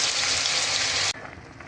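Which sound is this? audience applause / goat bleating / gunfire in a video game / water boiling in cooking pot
water boiling in cooking pot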